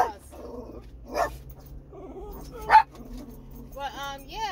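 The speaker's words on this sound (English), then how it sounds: "Barking everything, chihuahuas." Chihuahuas barking in short, yappy bursts indoors, a couple of sharp yelps standing out over a steady low hum and background noise.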